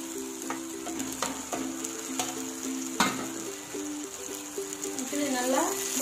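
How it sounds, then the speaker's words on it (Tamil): Eggs frying gently in egg curry masala in a pan, a steady soft sizzle with scattered scrapes and clinks of a spoon, and a brief murmur of voice under it. "முட்டை நல்லா கொஞ்சம் அப்படியே மெதுவாக வதக்கி விடணும்"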